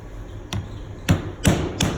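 A DP plug tool punches down a plug, giving four sharp, close taps spaced unevenly over two seconds against a low background hum.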